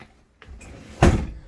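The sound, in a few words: drawer under a sofa in a bus conversion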